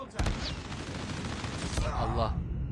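Call of Duty gunfire in a sustained rattling burst of rapid shots, loud and dense throughout, with a sharp crack near the start.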